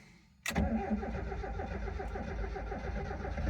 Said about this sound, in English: Let's see if we get a good crank.